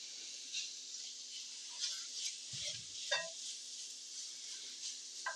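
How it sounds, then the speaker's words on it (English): Bacon chunks sizzle softly in a pan while being rendered down for charro beans, with a few scrapes and clicks of a spoon or spatula stirring over a faint steady hiss. "just go ahead and render this down until you got some nice good bacon chunks"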